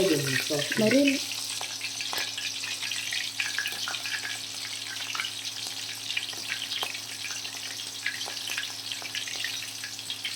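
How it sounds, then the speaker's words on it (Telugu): Green chillies fry in hot oil with a continuous crackling sizzle, preceded by a brief clatter at the start, close and fairly loud, with no speech. "మిరపకాయలు కూడా ఫ్రై చేసుకుందామండి మరి"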